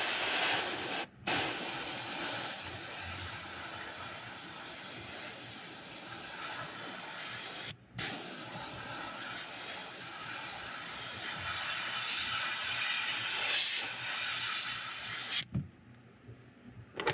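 An airbrush sprays candy purple paint onto a custom-painted fishing lure, giving a steady close hiss that runs almost unbroken. It cuts out briefly twice and then stops near the end.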